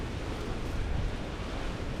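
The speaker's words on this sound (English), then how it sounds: "It's so cold up there, you can't understand. Like it's so windy." Strong, cold wind buffeting the microphone on the summit of Mount Oberon at Wilsons Promontory, a steady loud roaring rush with no pauses and no voices.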